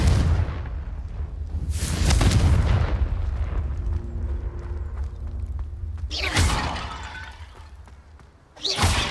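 Two loud Confringo spell blasts in Hogwarts Legacy, each a sharp shattering explosion of breaking vases with a booming tail, spaced several seconds apart over quiet game ambience.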